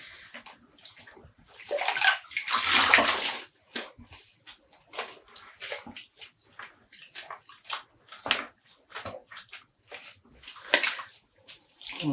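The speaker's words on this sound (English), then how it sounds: "make sure you get those under the water as well and rinse them" Running tap water splashing over dyed non-superwash wool yarn being rinsed at home, in irregular bursts of gushing and sloshing with quieter handling between.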